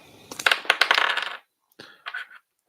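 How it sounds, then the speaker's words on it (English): Fibonacci dice rattle and tumble across a table in a burst of close clattering knocks lasting about a second, followed by a brief pause and two smaller bouncing clicks as they settle. "I shall roll my Fibonacci dice again."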